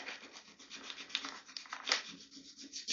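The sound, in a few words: sanding a plastic part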